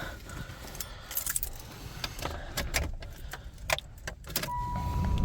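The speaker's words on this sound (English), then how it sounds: "let's go ahead and we'll get our key" Car keys jangle for a 1995 Ford Probe with a 5-speed manual and 123,000 miles. A close, bright metallic rattling comes in repeated bursts over an interior rumble, with no talking.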